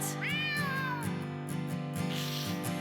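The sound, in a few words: cat meowing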